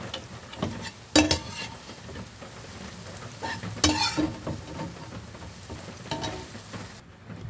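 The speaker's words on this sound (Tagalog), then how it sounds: "Sa same kawali ay magigisa lang tayo ng bawang at saka ng sibuyas." Garlic and onion sauté in a pan, giving a soft steady sizzle with several sharp scraping stirs of a utensil against the pan, heard close without talk.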